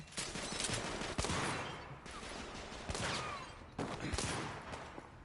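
Enemy gunfire rattles in a dense fusillade in the video game The Order 1886, rapid overlapping shots over a busy combat din, with a few sharper cracks standing out.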